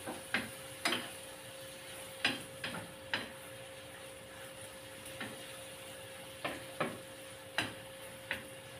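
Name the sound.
stirring squid adobo in a pan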